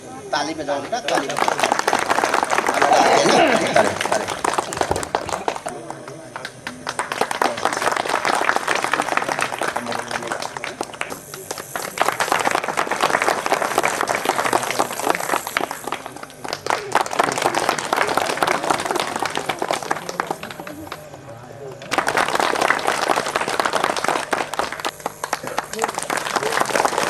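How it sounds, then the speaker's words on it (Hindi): Applause and clapping rise in repeated bursts from an audience at a village ceremony honoring meritorious students, alternating with talk. "ताली बजाओ बेटा, ताली"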